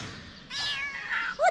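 A cream kitten waiting over plant pots gives a drawn-out, high meow followed by a short rising squeak, close and fairly clear over faint room noise.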